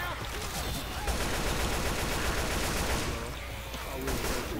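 Dense, continuous gunfire from a Left 4 Dead 2 co-op campaign, rapid overlapping shots forming a loud, unbroken wall of noise for several seconds.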